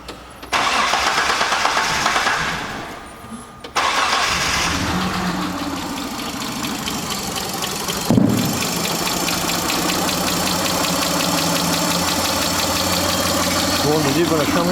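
A Mitsubishi Pajero engine cranks and catches after a timing belt job, then settles into a steady mid-pitched idle with a faint ticking rhythm, a brief thump partway through, heard nearby in a workshop.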